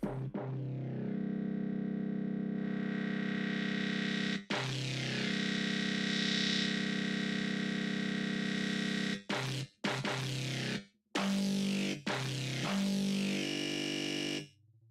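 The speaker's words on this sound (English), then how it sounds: "we actually threw a distortion on this already." A buzzy, harsh distorted synth plays sustained notes in bursts, cutting off abruptly several times, loud and gritty with a busy upper edge.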